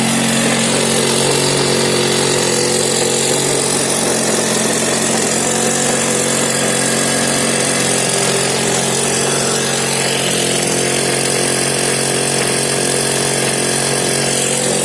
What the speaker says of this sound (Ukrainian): Зараз це мотокоса наша, яка працює.